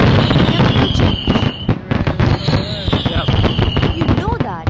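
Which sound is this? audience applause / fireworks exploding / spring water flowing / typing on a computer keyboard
fireworks exploding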